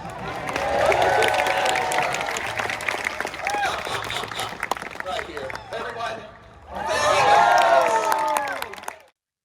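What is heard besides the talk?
audience applauding at Renaissance fair falconry show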